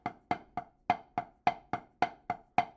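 Drumstick strokes on a practice pad land in a quick series of about ten sharp taps with noticeably uneven loudness and tone, close and alone.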